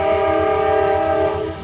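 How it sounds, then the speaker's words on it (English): A passing freight train sounding its horn, a loud sustained blast over a heavy rolling rumble that fades slightly at the end. "pardon the freight train"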